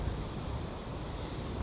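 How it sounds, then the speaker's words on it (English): Strong gusts buffet a wireless microphone outdoors during a rainy, windy fairground build at Hull Fair, making a steady, loud, rumbling roar that never lets up. "it should muffle the wind, but I won't be able to tell until I get home and edit."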